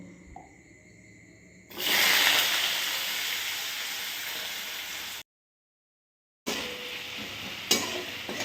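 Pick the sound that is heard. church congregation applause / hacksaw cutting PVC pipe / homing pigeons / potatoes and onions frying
potatoes and onions frying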